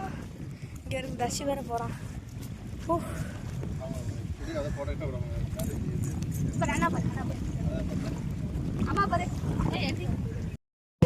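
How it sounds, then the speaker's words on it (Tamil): Strong wind gusts and rain outdoors on a trip to Malampuzha, heard as a heavy, continuous roar buffeting the microphone close up, with people talking over it throughout. "இப்போ மழை பெய்யுறது மட்டும் இல்லாமல் செமையாக காற்று வருது."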